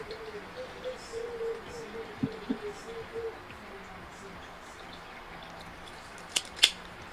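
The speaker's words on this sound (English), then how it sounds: "Snip off the cane," Secateurs snip through an aeonium plant cane with two quick, crisp clicks close by near the end, following soft handling noises and faint low talk in a quiet garden.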